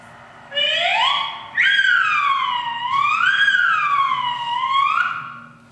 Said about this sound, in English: Kids were trying slide whistles.